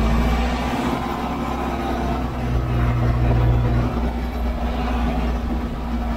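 An Ursus 914 tractor pulls a cultivator through stubble on a hot, windy day. Its diesel engine drones loud and steady, labouring under heavy load, with the rumble swelling slightly in the middle.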